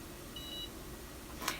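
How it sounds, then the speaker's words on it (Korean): Skincare beauty device's one-minute timer alarm gives a brief electronic double chirp near the end, preceded by a faint short tone, over a quiet room hum with no talk. "띠릭하고 소리가 나면서 알람이 울려요"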